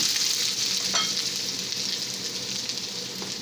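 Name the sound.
sautéing garlic and onion in hot oil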